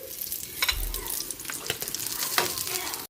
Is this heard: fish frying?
yes